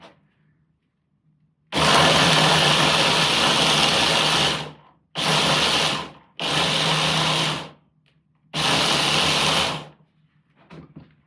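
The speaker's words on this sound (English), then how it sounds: "the food processor made it quick and easily" Food processor chopping raw salad ingredients in four loud close bursts, the first about three seconds long and the rest shorter, each a harsh whirring grind separated by brief pauses of near silence.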